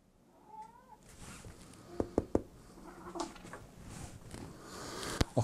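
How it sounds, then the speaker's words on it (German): A tomcat gives a short rising meow early on, followed by scattered knocks and pattering taps in a quiet indoor room. "Och, Kater."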